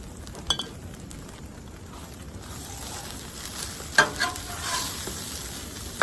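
Ribeye steak for Philly cheesesteaks sizzles and fries on an outdoor griddle in steady hissing, with occasional metallic scrapes and clinks of a spatula nearby, no voices.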